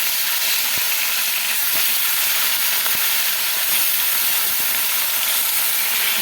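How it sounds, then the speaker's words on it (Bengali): Pieces of katla fish frying in hot oil, a loud continuous hissing sizzle close up, with occasional sharp pops and no voices. "বাকি মাছগুলো আমরা ভেজে নেব। মাছগুলো দিয়ে দিচ্ছি।"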